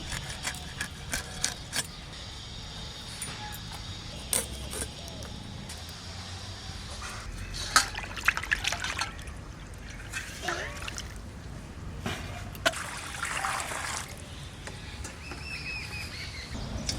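Raw hilsa fish pieces being washed again in water, with splashing, dripping and irregular clinks across the clip under a lively background that includes bird calls.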